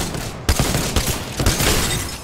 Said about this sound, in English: I shot 4 bullets before anyone came to help me.